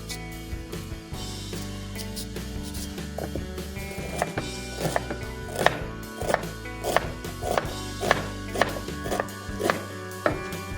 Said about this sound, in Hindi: अब मैं मूली के पीसेस कर रही हूँ